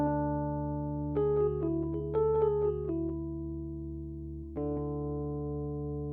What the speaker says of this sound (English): the EchoBoy is a go-to delay unit of mine